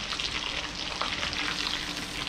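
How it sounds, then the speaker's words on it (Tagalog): Tuyo, Philippine dried fish, frying in a pan, giving a steady, close, dense sizzle with no voices. "magpiprito si Merna ng tuyo"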